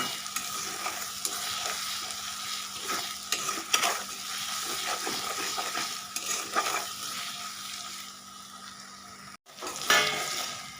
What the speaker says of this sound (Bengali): আদা রসুনের কাঁচা গন্ধ ভাবটা চলে গেছে, আমি একটু কষিয়ে নিয়েছি।